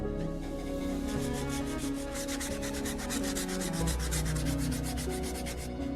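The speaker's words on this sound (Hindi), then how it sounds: "हम इसे 120 नंबर वाले सैंड पेपर के टुकड़े का इस्तेमाल करके साफ करने की कोशिश करेंगे।" 120-grit sandpaper is rubbed over an old, centuries-old pirate sword, a loud, rhythmic scratchy rasping with rapid back-and-forth strokes continuing steadily throughout.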